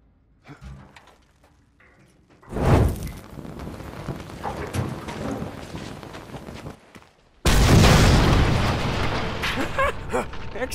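An explosion blasts open a gate in the Mad Max video game: after quiet clatter, a sudden loud burst rumbles and crackles for several seconds, and a second, bigger blast roars through to the end.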